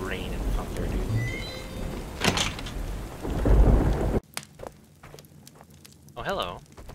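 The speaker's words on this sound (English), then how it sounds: "nothing beats the sound of rain and thunder" Video game rain pours loudly with rumbling thunder building and booming, then cuts abruptly to quieter clicks and a short voice.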